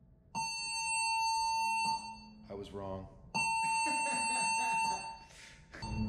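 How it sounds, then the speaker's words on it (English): A loud, steady electronic alarm tone blares on the Disney Fantasy cruise ship in two long stretches, with a brief pause between, and a person speaks briefly during the gap. "The alarm is about to go off"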